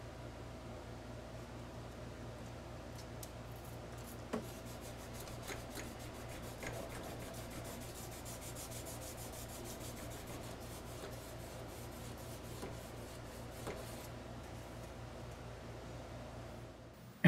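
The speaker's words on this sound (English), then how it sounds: "This is another tool that I use for sanding hollow grinds." Quiet, continuous rasping of sanding on a hollow-ground knife bevel, with steady low rubbing strokes and a faint background hum throughout.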